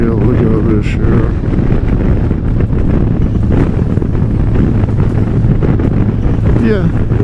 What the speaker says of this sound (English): Yeah, it's blowing pretty hard still.